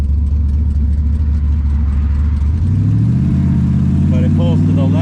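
A car with a manual brake conversion drives along a street. The engine drones low and steady, then its pitch climbs as it accelerates, with faint higher whines near the end.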